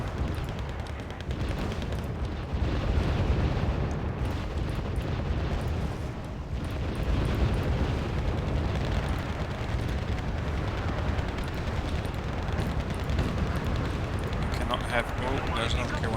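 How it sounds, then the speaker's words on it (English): Mortar shells exploding in the war strategy game Wargame Red Dragon, a dense, continuous rumble of booming blasts that rolls on without pause. "I think it's the mortars."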